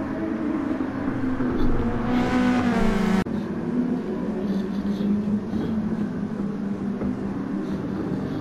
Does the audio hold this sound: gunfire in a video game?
no